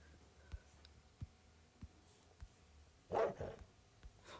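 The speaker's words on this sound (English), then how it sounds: "Now, dogs do not kill you unless you try to kill them first." Minecraft dog in-game, a wolf giving one short bark amid faint regular clicking footsteps, quiet and somewhat distant, with no talk.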